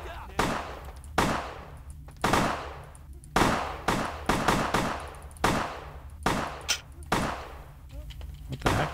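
Gunfire in the game Vampire the Masquerade Bloodlines: a string of sharp, loud shots at irregular intervals, roughly a dozen bursts over several seconds with quieter room tone between.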